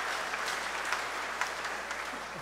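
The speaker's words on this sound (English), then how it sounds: "Let's give him a round of applause" An audience at an abbatial blessing gives a brief round of applause, soft and steady, with many hands clapping evenly at a distance.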